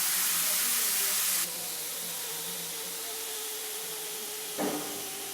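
Steam hisses loudly from a pressure cooker of mixed dal once the whistle is lifted off the lid. A strong opening burst eases to a quieter steady hiss, with a short thud near the end.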